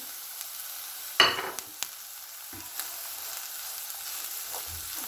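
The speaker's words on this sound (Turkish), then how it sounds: "İyice kavrulsun." Finely chopped yemlik (dede sakalı) greens sauté in a pan with a soft, steady sizzle, broken by a brief clatter of a utensil early on and a few faint taps afterward.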